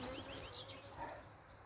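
Bees buzz around an open beehive as frames are handled, a faint, continuous swarm hum with scattered close wingbeats over a quiet background.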